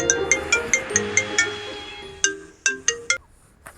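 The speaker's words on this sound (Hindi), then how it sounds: "अचानक ही संजोली का फोन बजता है और कॉल होती है अनुराग की।" A phone rings with a melodic electronic ringtone: a steady run of evenly spaced chiming pulses, a short pause, then another quicker burst of chimes, loud and close.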